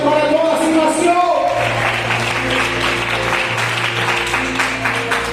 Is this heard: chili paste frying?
no